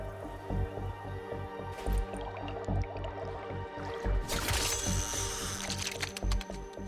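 Spear fishing in the Warframe video game on the Plains of Eidolon, with wet squishing splashes and drips against a steady game soundtrack, building to a brighter splashy burst midway.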